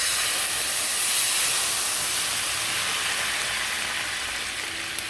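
Red wine poured into a hot pan used for searing steak bursts into a loud, steady steam hiss and sizzle that holds for several seconds and fades only slightly, with no talk.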